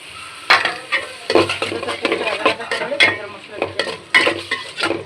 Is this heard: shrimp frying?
yes